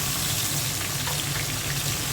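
A pan of frying spices (cumin, salt, turmeric, dried chilli flakes) sizzles loudly and continuously after a splash of water is added, a dense hiss with no pauses.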